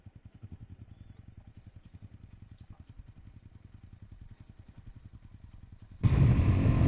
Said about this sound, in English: We're riding Honda CRF 250Ls